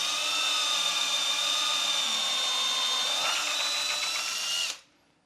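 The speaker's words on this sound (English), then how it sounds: "Now I should be able to drill into that corner." A power driver whines steadily at high speed drilling into a corner, close and loud, bogging slightly partway through before spinning down and stopping abruptly near the end.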